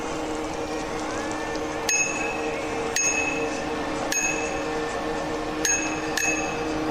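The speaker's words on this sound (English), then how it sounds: "As I go through the big tunnel, I will sound my bell." An e-bike bell is rung several times inside a big tunnel, each bright ding ringing out with a long reverberant tail over steady riding noise, the strikes spaced roughly a second or so apart.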